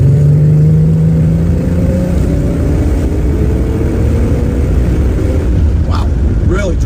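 An original muscle car engine drones and revs close and loud, its pitch rising and falling as it drives, with a voice speaking over it.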